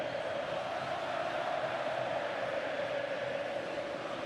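A big stadium crowd of Grêmio football fans roars steadily at the arena after a 5–0 derby win over Internacional, a dense, continuous wash of distant voices chanting and cheering without a break.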